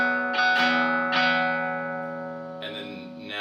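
Electric guitar with effects plays the open low E bass note as part of a riff, a few sustained plucked notes ringing out, then a fresh strum late in the clip.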